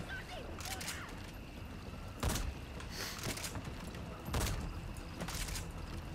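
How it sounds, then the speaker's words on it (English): Gunfire in the video game Metal Gear Solid 5: two loud, sharp shot bursts stand out a couple of seconds apart over a steady background of game ambience. "Stop shooting me, kids!"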